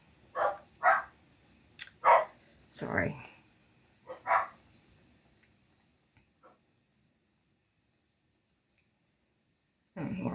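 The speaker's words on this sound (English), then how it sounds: "Oh, there goes the dogs." Several dogs bark in short bursts somewhere off at a distance, muffled and uneven, followed by quiet and a brief spoken word at the end.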